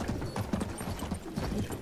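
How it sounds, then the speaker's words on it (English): Rhythmic hoofbeats of a horse in the video game Battlefield 1, a quick repeating clip-clop pattern at moderate level, with no talking over it. "how do I make the horse run?"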